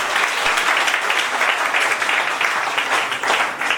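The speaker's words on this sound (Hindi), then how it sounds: "भगवान के लिए जोरदार ताली" Loud applause fills a seminar hall in Jhansi, a brief burst of vigorous, dense clapping from a large audience lasting a few seconds.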